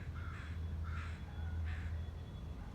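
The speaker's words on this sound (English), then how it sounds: "you can hear my crows cawing" Crows cawing outdoors, three evenly spaced harsh caws at moderate distance over a low steady hum, with no talking.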